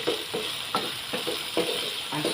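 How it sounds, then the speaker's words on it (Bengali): Potatoes fry with turmeric and salt in a pan, a soft steady sizzle punctuated by about six regular scraping stirs, close and fairly quiet. "তাই ভালো করে এবার ভেজে নেবো আলুটা।"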